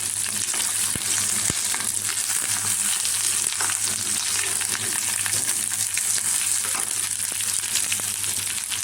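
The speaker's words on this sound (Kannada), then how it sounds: "ಇವಾಗ ಚೆನ್ನಾಗಿ ಫ್ರೈ ಮಾಡೋದು. ನೋಡಿ, ಈ ರೀತಿ ಒಗ್ಗರಣೆಯಲ್ಲಿ ಚೆನ್ನಾಗಿ ಬಾಡಿಸ್ಬೇಕು." Bitter gourd frying in an oil tempering gives a steady, dense crackling sizzle close up, with an occasional faint stir, no voices.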